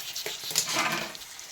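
Ginger paste sizzles and fries in a pan with onion and green chillies, a steady close crackle with light stirring scrapes, no voices.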